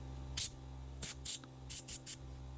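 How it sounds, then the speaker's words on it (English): Contact cleaner sprayed into the speed switch of a Makita power tool in several short hissing bursts, faint and close, over a low background hum. "We'll get some contact cleaner in there as well."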